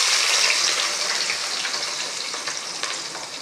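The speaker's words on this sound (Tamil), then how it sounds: "இப்போது வெங்காயம் போட்டுக்கலாம்." Onions hit hot oil in a pan and set off a loud, bright sizzle that fades slightly to a steady frying crackle, with faint stirring scrapes.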